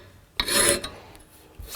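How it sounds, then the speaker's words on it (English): A round file rasps against the shoulder of a hand-made knife blade during hand work with no power tools: one loud, close scraping stroke, then quieter lingering rubs and a short final scrape. "we'll start filing that shoulder back"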